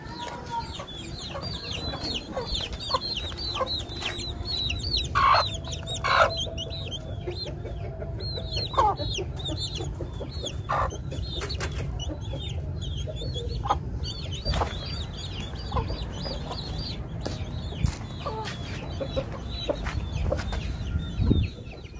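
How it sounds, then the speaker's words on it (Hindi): Several chickens, including a large rooster, cluck and chatter continuously nearby, with scattered sharper calls over a low background rumble, no voices. "ये हमारा बड़ा मुर्गा,"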